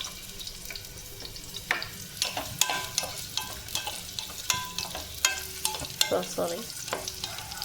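Carrots for Hakka noodles stir-fry in a pan, a low steady sizzle broken by sharp scraping and clattering strokes of a spatula; one brief word is spoken.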